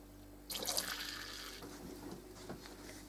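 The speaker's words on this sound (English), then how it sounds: "Use an old tomato ketchup bottle, just squirt it into the hole till it's full" Water squirts from an old tomato ketchup bottle into the filler hole of a Roundhouse Lady Anne model steam boiler, a soft close hiss and trickle starting abruptly and fading to quiet dribbling.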